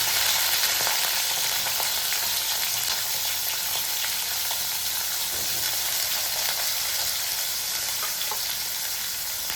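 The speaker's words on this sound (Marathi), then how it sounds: "आता जो आपला बटाटा होता तो टाकून घ्यायचा आहे." Potato pieces and cumin fry in hot oil for a Marathi mixed vegetable dish, producing a loud, steady, close sizzle that runs unbroken throughout with faint crackles.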